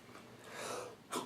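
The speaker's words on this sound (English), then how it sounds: "I was sneezing earlier, now it's you." One short, fairly faint human sneeze bursts out at the end of a quiet room background.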